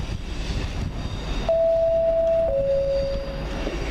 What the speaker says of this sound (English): I'm going to get the 1911 Virgin Pendolino up to Manchester Piccadilly